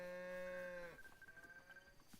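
A Hateno cow in a Zelda game gives one long, loud moo that ends abruptly, followed by quieter game ambience with faint chimes.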